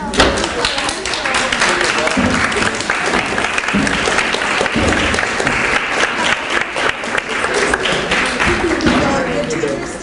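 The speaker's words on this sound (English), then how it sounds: "give them a round of applause for letting you guys come here" Loud, sustained applause from an audience of students at a reading and digital writing showcase, many hands clapping densely and close for the whole stretch, with crowd voices mixed into the roar.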